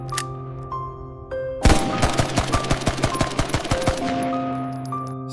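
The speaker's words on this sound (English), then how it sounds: "Then 2 Thompson submachine guns opened fire." Two Thompson submachine guns fire in sustained automatic bursts, a rapid string of loud, sharp reports that rings out over a steady tonal background.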